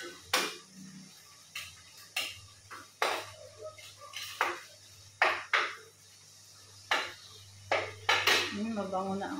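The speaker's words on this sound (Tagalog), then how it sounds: "Lutuin natin muna ang alamang." A spatula scrapes and knocks against a pan while fresh alamang shrimp paste cooks, producing a series of sharp, irregular metallic clinks over a faint steady background hum, with little talk.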